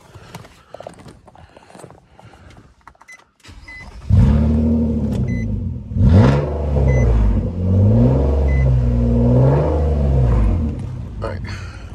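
A modified Nissan Maxima engine revs hard and close, with several loud rising and falling sweeps after a quieter, scrappy start.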